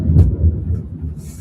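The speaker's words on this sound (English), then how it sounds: "Well, that was the thunder." A low, rumbling roll of thunder swells and fades over about a second, a deep heavy boom with a faint hiss trailing behind it.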